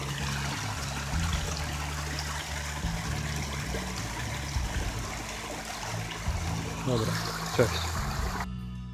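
A stream in a rocky gorge, with water trickling and splashing over a series of small waterfalls, makes a steady close-up babble that runs throughout, while someone speaks over it at times.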